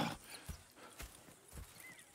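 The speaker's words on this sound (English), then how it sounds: "Go check the horses are ready." Horses in Red Dead Redemption 2 clip-clop with steady, rhythmic hoofbeats at an easy walking pace, heard close and moderately quiet on their own.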